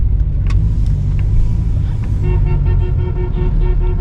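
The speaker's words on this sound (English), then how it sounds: "someone's beeping" A car horn beeping in traffic at a red-light turn, a loud sustained honk from a nearby vehicle over a heavy engine and road rumble from inside a car.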